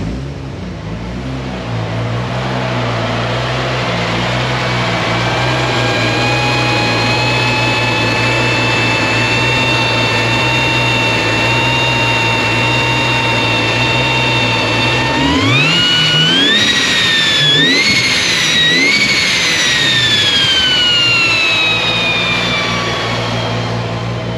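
A turbocharged car engine with an oil pressure restrictor and a smoking turbo, idling with a steady hum and whine, then revving up in several rising and falling pulls to higher RPM, loud and close, no talking.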